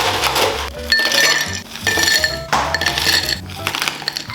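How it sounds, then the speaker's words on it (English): Ice clinks and rattles steadily against a mixing glass as a bar spoon stirs a Manhattan cocktail, a close, bright tinkling in rhythmic swirls with brief pauses between passes. "So now we're stirring it down."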